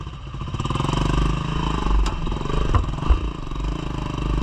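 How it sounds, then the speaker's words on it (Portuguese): A motorcycle engine idles and revs as it is ridden onto a river ferry, a close, steady mid-pitched putter with a few brief knocks and clunks toward the end and no talk. "Botar lá a moto ali em cima rapidinho"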